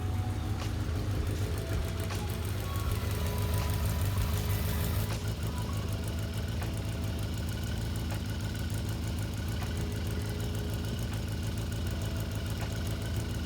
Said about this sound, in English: So now we are going to turn on the bike and let it idle for a few minutes.